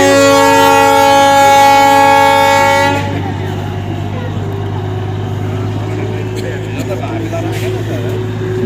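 A Darjeeling toy train horn blows a long, steady, loud harmonic toot for about three seconds, then stops, leaving outdoor chatter and crowd noise.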